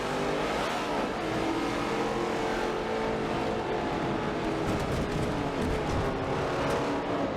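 NASCAR race cars on a formation lap around a banked oval in a racing game, a continuous engine drone with shifting pitch, heard steadily at moderate distance and with no talk.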